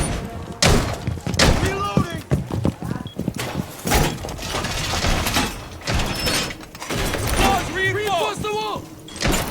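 Wall reinforcement in the Rainbow Six Siege video game, a busy string of metallic clanks, ratcheting clicks and heavy thuds in uneven bursts, with voices talking over the clatter.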